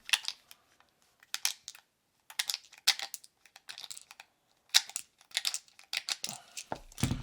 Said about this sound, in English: We'll just get a couple and load it up real quick.